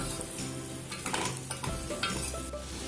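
Vegetables frying in a pan for a pineapple curry sizzle steadily while a utensil stirs them, giving close, soft scraping bursts over the continuous hiss, with no voices.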